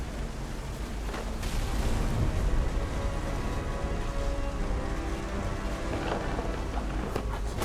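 Steady heavy rain hisses through a thunderstorm in What Remains of Edith Finch, with low rumbles of thunder rolling underneath and a few sharper cracks standing out from the continuous downpour.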